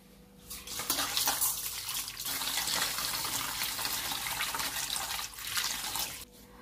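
Pulao rice is rinsed under a running tap, a steady close splashing and rushing of water that starts, holds for several seconds and stops.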